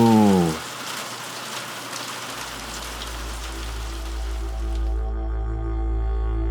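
Steady rain falls across the ground as a broad, even hiss that continues without a break after a short tonal sound at the start; no voices are heard.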